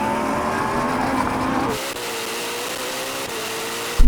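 A Porsche Taycan Turbo GT and a Ferrari SF90 launch in a drag race, producing a loud, rising whine of electric and engine drive that drops abruptly to a lower steady tone, heard close from inside the car.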